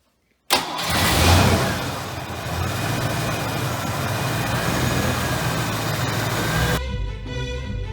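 A Ford Mustang 5.0 V8 in a fox body cranks and catches, then settles into a loud, steady, rumbling idle that carries on close by until the end.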